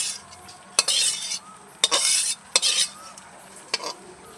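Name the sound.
stirring spice mix into khichuri in a pot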